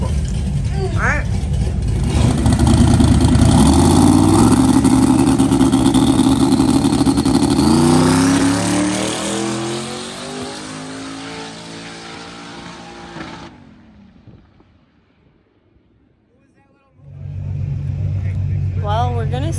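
A car engine drives on a test run after a transmission repair, revving up steadily then fading away into the distance, nearly silent for a moment before loud engine sound returns close by.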